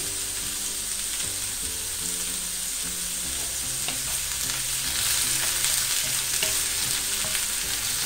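Onion and rebollones mushrooms sautéing in a pan, a constant close sizzle with occasional stirring clicks, growing slightly louder toward the end, with no voices.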